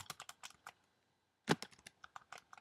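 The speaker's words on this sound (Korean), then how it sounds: "지금 제가 타이핑 하고 있는 거예요." Quick clicks of typing on a computer keyboard, two bursts of keystrokes separated by a short pause, close and fairly quiet.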